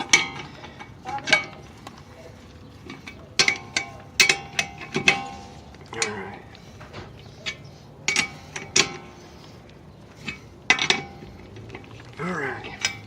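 Wheel lug nuts on a car being tightened with a basic trunk wrench, giving a series of sharp metallic clicks and ratcheting clanks in irregular bursts, with faint background noise between them.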